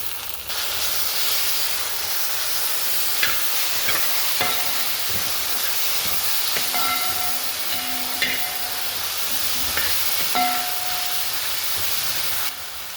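Tomatoes frying in a masala base in a pan, a steady broad hiss and sizzle running the whole time with occasional faint scraping stirs, close and even, with no voices.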